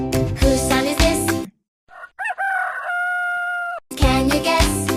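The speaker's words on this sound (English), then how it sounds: "This is a rooster." A rooster crows loudly and close up, a single drawn-out cock-a-doodle-doo ringing out alone between stretches of background music.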